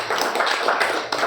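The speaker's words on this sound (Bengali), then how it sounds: "আলিদার জন্য জোরে হাততালি" Loud, steady clapping from a crowd at a retirement farewell for a general assistant, dense overlapping claps filling the whole short stretch with no voices over it.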